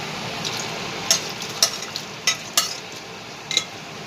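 Cooked chickpeas hit a hot masala pan and sizzle steadily, with a spoon clinking and scraping against the metal every half second or so while stirring, close up and with no one talking.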